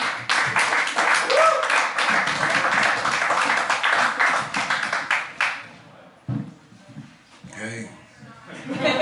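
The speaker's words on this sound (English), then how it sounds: "Everybody, a big round of applause for Mr." Audience applause welcoming a comedian onstage at a comedy show, dense rapid clapping for about five seconds that fades out, followed by scattered chuckles and the comedian starting to talk.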